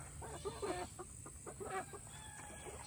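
Backyard chickens, including black Ameraucanas and Rhode Island Reds, cluck in soft repeated bursts around the coop, fairly faint and close against a steady background hum.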